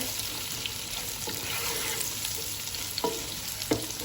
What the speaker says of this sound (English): I'm going to cook the onions for about 10 minutes until they're slightly golden color